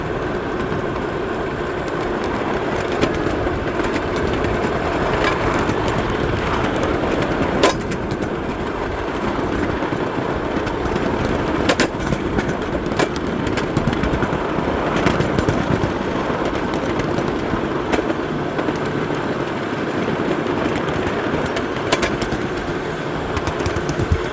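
Steady, loud rumble from inside a train riding the rails on the White Creek line in late winter, with continuous wheel roar and occasional sharp clacks throughout.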